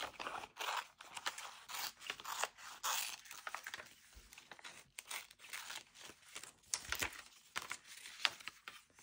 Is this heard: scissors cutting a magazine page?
yes